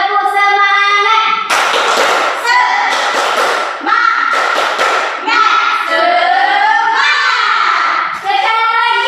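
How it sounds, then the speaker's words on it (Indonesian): A class in a teaching session performs a rhythmic spirit clap: short bursts of loud group clapping alternate with sung, chanted voices, all close and filling the room. "Tepuk semangat."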